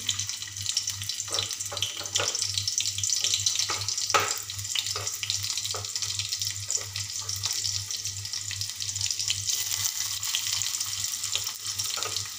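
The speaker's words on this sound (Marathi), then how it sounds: "त्यामध्ये 1 चमच तेल घातले आहे। तर मी आता कांदा सोडणार आहे।" Onion sizzles steadily in a spoonful of hot oil for egg bhurji, with a constant frying hiss and occasional soft clicks of stirring, under a low hum.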